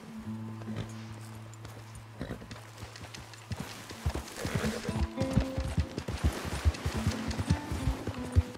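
Horse hooves clip-clop in Red Dead Redemption 2 while a player's horse walks. The steps come as a steady, fairly close series of dull thuds, with low game ambience underneath and a busier patch of hoof sounds and other noise partway through.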